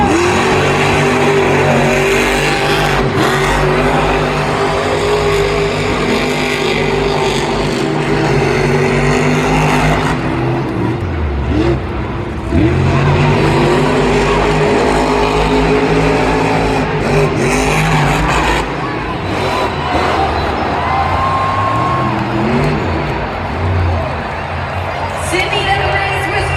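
Monster trucks racing at a Monster Jam stadium event in Sydney, engines roaring and revving loudly and continuously, with a crowd and an announcer's voice over the din.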